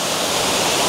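Tagbilat Falls, a tall waterfall in Zamboanga Sibugay, pours and splashes in a steady, dense roar of broadband water noise, close and continuous with no voices.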